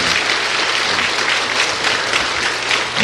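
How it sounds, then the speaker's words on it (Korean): An audience at a church service gives a loud, sustained round of applause, dense clapping continuing without a break. "다시 한번 큰 박수로 환영해 주시기 바랍니다"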